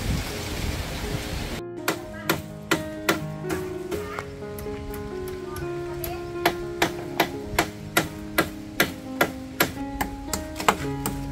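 A nail being hammered, likely into wood, during work up a mango tree: a steady series of sharp, ringing strikes at a regular pace, close and fairly loud, starting after a brief pause.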